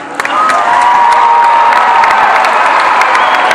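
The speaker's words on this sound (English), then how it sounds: "Give a big hand clap." A large audience claps and cheers for the parents at a church gathering, a loud, steady wall of applause with whoops and shouts that holds for several seconds.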